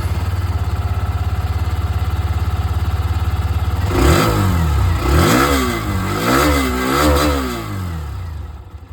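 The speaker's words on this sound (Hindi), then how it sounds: "अब आप लोग यहाँ पर जो एक्सट्रीम 125 आ रही है इसकी भी आवाज़ सुन लीजिए।" A Hero Xtreme 125R motorcycle engine idles with a steady low thrum, then revs up and down in several rising and falling bursts, close and loud.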